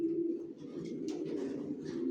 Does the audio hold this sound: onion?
no